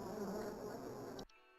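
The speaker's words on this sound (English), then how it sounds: "Yep, that's the sound of bees." Close, steady droning buzz of bees or similar insects in a house infestation, continuous for over a second before cutting off abruptly into near silence.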